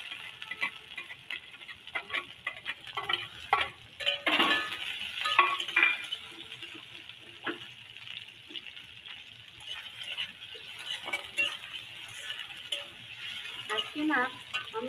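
Garlic dropped into hot oil with whole cumin, cardamom and cloves sizzles and crackles steadily at close range, with scattered spatters and occasional utensil clinks over a continuous frying hiss, outdoors on a rooftop.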